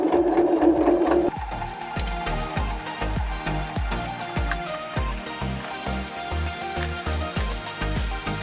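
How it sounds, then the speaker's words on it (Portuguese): A sewing machine runs a seam around the edge of a volleyball-net mesh fabric, starting with a brief whir and then a steady rapid chatter of stitching, close up and alone. "é uma costura aqui e uma em toda a volta da nossa tela vôlei"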